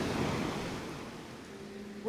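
Sea waves wash against an eroding stretch of British coastline beside a crumbling car park edge, a broad, steady roar of surf that slowly eases, with no voices.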